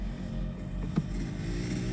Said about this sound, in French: J'entends aussi des moteurs.